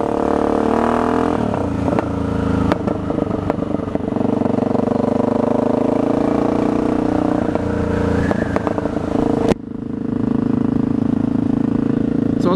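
A motorcycle fitted with hollow mufflers rides down Beach Road with a loud, steady engine drone and brief shifts in pitch, heard up close from the bike, with no talking.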